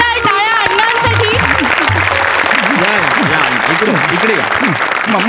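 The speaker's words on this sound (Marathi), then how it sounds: "जोरदार टाळ्या अण्णांसाठी." A comedy show audience claps loudly and continuously for Anna on stage, a dense, steady roar of applause with a person talking over it.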